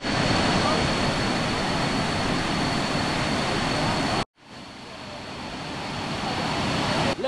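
A waterfall near Luang Prabang, Laos, heard as a loud, steady rush of falling water that cuts out briefly and then swells back up.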